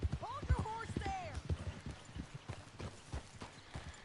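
Horse hooves clip-clopping at a steady walking pace in the western game Red Dead Redemption 2, fairly faint and continuous beneath someone talking, with a brief whinny-like call near the start.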